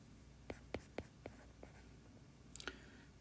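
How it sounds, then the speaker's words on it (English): Pen or chalk writing notes during a physics lecture: a series of about six quick taps and strokes, then a brief scratch, faint and close in a quiet room. "let's write that down as the third part"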